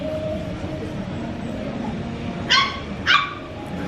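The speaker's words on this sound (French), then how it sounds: "Là, elle aboie, hein." Two quick dog barks, a short pause between them, carry over a steady low background hum.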